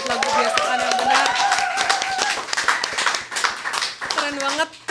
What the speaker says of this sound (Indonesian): Semuanya tepuk tangan, kita tepuk tangan sekali lagi dong